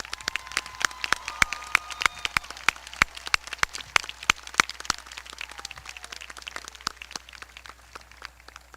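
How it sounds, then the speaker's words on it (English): A graduation ceremony audience claps for its speakers, sharp individual hand claps crackling steadily and fairly close across the whole span, with no talking over them. "Please join me in thanking all of our graduation speakers with a round of applause."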